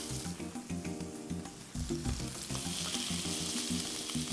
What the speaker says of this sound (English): we just want to sear them